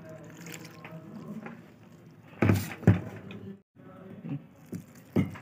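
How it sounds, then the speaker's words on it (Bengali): Water poured in small amounts into flour while kneading dough for lachha paratha, close soft splashes and wet kneading squelches in bursts with short pauses. "অল্প অল্প জল দিয়ে ময়দাটাকে মাখতে লাগবো।"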